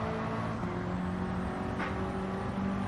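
An Alpine A110 at full throttle in Gran Turismo 7 on the Watkins Glen track: a steady, continuous engine drone with a sustained tone that holds level throughout, close and loud.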